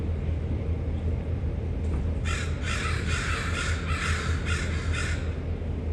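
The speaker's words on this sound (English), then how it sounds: "Those crows are excited." A group of crows caws repeatedly on a Vancouver street, several loud harsh calls in quick bursts over steady low traffic rumble, with no talking.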